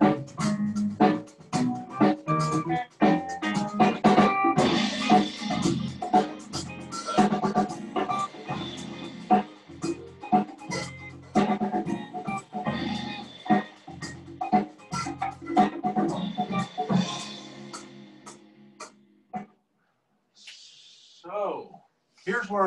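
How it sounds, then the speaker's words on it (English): A full band rhythm section plays a steady groove of drums, bass and chords, then drops out near the end, leaving a few sparse, fading notes. "So now we're going to listen just to the rhythm section."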